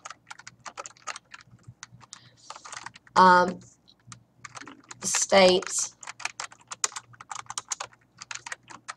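Rapid clicking of computer keyboard keys, close and crisp, runs throughout in uneven bursts while a person speaks briefly twice over the typing.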